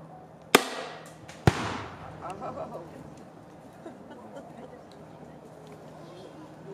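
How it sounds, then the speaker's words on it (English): A firearm at a Vietnam-era reenactment fires two sharp, loud shots about a second apart toward a tree, each cracking then decaying into an outdoor rumble and crowd murmur. "I'm going to shoot at a tree right over there"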